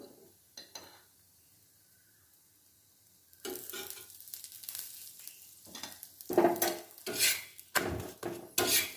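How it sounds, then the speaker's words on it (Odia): Aloo paratha fries in a little ghee on a pan, starting nearly quiet and then building into loud bursts of sizzling hiss with utensil scrapes and pressing noises close by. "ଏଠି ଦେଖନ୍ତୁ ମୁଁ ସେଙ୍କି ନେଉଛି ଆଳୁ ପରଠା। ଟିକେ ଘିଅ ଦେଇଦେବା।"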